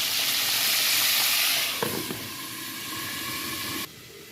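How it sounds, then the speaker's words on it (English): Flour-coated chicken fries in a pan with a loud, bright sizzle that softens after about two seconds into a quieter, steady hiss with a few faint pops before it drops away. "the other chicken is frying."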